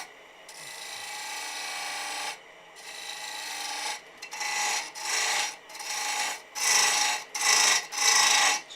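Wood turning lathe with a gouge cutting away excess timber on a fairy toadstool house piece, a loud continuous rasping scrape broken into repeated passes with short pauses.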